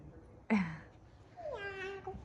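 A single short meow rings out, then a longer, rising-and-falling meow follows a moment later, both clear and close.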